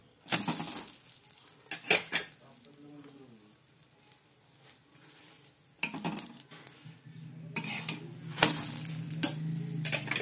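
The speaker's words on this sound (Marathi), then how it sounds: "मी असं मुद्दाम दाबून दाबून पुरणपोळी नाही भाजत" Puran poli, a sweet stuffed flatbread, roasting on a hot griddle in a home kitchen, with soft sizzling and scattered clinks and taps of a spatula and pans, close and moderately loud, no talking.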